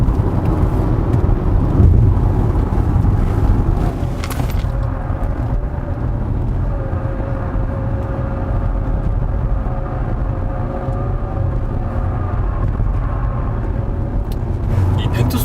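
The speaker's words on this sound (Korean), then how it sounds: "벤투스 S1 노블2의 타이어 소리가 이렇게 좀 저음이었나 싶을 정도로" Hankook Ventus S1 Noble2 tires on a 2018 Chevrolet Equinox 1.6 diesel AWD squeal low while cornering, a sustained deep whine blended with steady engine and road roar as people talk over it.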